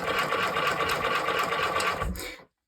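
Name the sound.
sewing machine stitching leather for fur mittens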